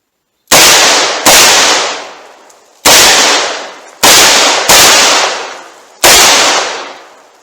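.357 Magnum revolver fired one-handed: six loud, sharp shots in an uneven rhythm, each blast cracking close by and then trailing off in a long echoing decay, with no voices.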